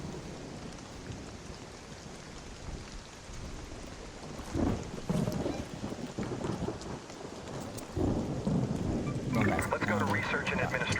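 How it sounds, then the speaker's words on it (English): Rolling thunder with steady rain and wind in the video game Arc Raiders, a continuous dense storm wash that swells louder in the later seconds, with a voice talking over it. "What is that? Lightning shit."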